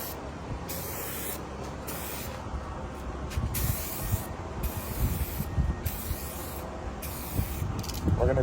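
A spray gun lays clear coat onto a canopy in a steady, close hissing spray, cut by short pauses as passes start and stop, running alone without talk.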